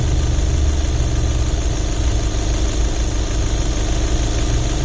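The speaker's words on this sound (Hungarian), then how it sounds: "meg tudjuk hallgatni a motort." A 140 hp 2.0 TDI diesel in a Volkswagen Golf with DSG idles steadily close by, a continuous low rumble with a constant even drone and no talking.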